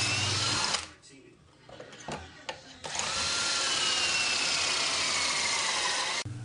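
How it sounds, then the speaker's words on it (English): A power drill whines loudly and steadily, boring pocket holes in wood with a Kreg K4 jig, dropping off briefly then resuming for a long sustained bore before cutting out near the end. "I just drill out the holes that I want, making sure that the drill goes all the way down"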